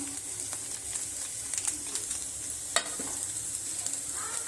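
Vegetables and potato with chilli powder fry in a pan for a sandwich filling, giving a constant hissing sizzle, while a spoon stirs and taps occasionally against the pan.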